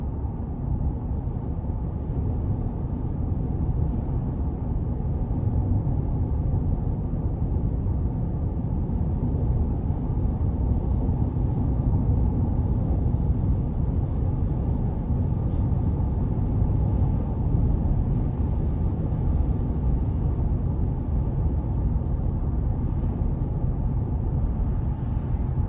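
Road noise inside a moving 2021 Chevy Colorado LT Redline with the 3.6 engine on 18-inch painted aluminum wheels, a steady low droning hum that stays constant throughout.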